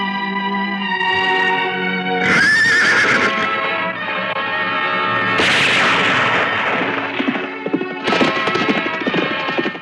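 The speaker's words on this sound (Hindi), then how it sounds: "पहली गोली की आवाज सुनकर तू भागेगा" Sharp gunshots crack out about three seconds apart in a Hindi drama scene, each loud burst tangled with a horse's loud whinny and neighing, with hoofbeats in between.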